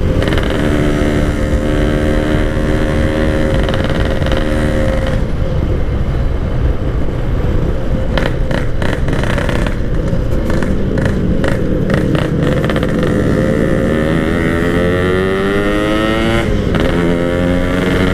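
A service motorcycle rides along a road at night, its engine giving a loud, continuous drone whose pitch rises and falls as it speeds up and shifts, with no talking.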